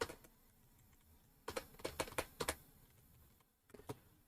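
Keys clatter on a computer keyboard as a MySQL query is typed, quiet bursts of clicks in an irregular rhythm with a pause near the end and no voice.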